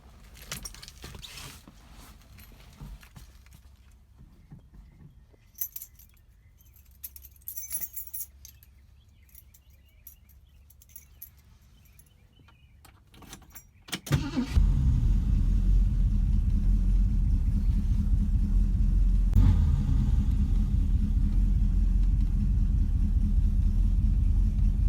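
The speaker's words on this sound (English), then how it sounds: "I want to give you an idea of how well this car starts." A 1967 Mercury Cougar engine cold-starts after about fourteen seconds of quiet handling noises and clinks, catching abruptly into a loud, steady, close idle rumble that holds to the end.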